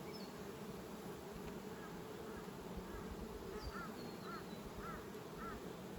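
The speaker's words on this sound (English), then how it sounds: "They're beautiful quiet bees." Honey bees buzzing around an open hive of quiet bees during spring nucleus-hive work, a faint steady drone throughout with a few brief higher chirping calls layered on top.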